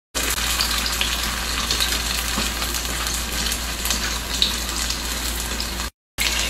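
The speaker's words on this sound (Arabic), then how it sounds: "وبعدين راح أبدأ بقلي قطع الكفتة حقتها" Kofta meatball pieces fry in hot oil, giving a steady, close, dense sizzle that runs continuously for several seconds before a brief cut, with no talking.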